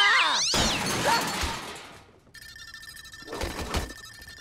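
A cartoon cat in a Teenage Mutant Ninja Turtles episode lets out loud, wavering meows, followed by a crash and a thin electronic whine with more thuds.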